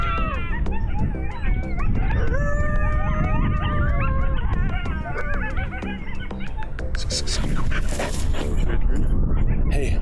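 Coyotes howl and yip in a Nebraska field about 400 yards out, wavering tones rising and falling over steady wind and rustle, with a burst of hissy noise late; a caller's howl imitation may mix in.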